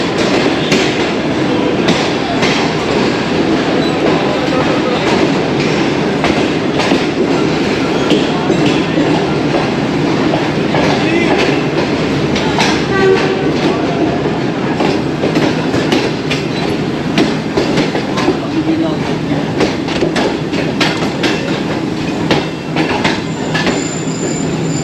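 The 8 Down Tezgam express runs steadily on the rails, a loud, continuous rumble with rhythmic wheel clatter and occasional squealing, heard from inside a moving carriage without pause.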